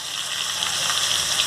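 Chopped onion and curry leaves fry in hot oil with popped mustard seeds for squid gravy, giving a dense, even sizzle that holds steady throughout, with no speech.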